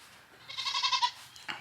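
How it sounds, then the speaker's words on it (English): A goat bleats once in a drawn-out, wavering call during milking on a small homestead, fairly close and clear with no talk over it, followed by a brief soft noise. "Milking our new goat that you guys haven't really got to see"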